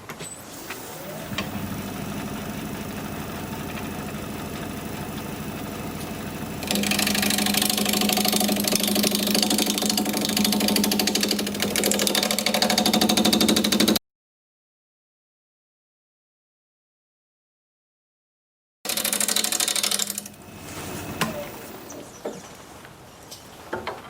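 A wood lathe spins steadily with a humming motor tone while a gouge cuts the turning, the sound growing into a louder, rougher scraping for several seconds, then breaking off into silence before resuming.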